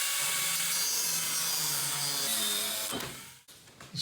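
A power tool grinds through protruding steel bits on a stripped vintage caravan frame, a loud sustained whine with a humming undertone that cuts off abruptly near the end.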